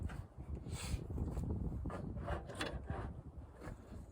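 An arrow fletching clamp for left wing feathers is handled up close, giving quiet clicks, rubs and small mechanical ratcheting sounds with no talking.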